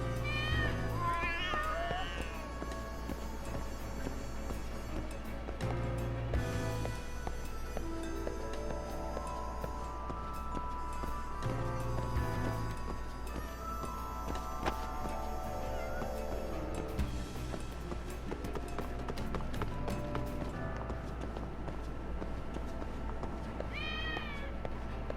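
Cats meowing in the video game Lost Judgment, with repeated high meows over a steady, loud game soundtrack that runs for the whole stretch.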